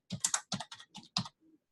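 A short burst of crisp keystrokes on a computer keyboard, seven or eight quick, close, distinct taps in an uneven rhythm, with no talking.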